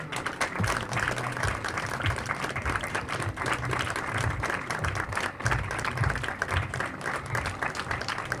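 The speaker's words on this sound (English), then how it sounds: "Louder round of applause for Professor Ruth." An audience at a World Food Day event at a junior school applauds steadily. Dense clapping carries on evenly throughout at a moderate distance, without any clear voices.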